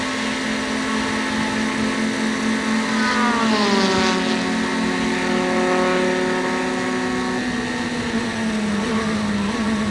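Formula Continental race cars scream past on a road course during a June Sprints race, a loud, high engine whine that sweeps down in pitch as a car passes, with more engines droning steadily behind.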